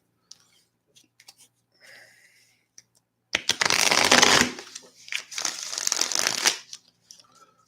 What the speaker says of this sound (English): I'm gonna stop shuffling these cards so I'm not so brutally abusing them.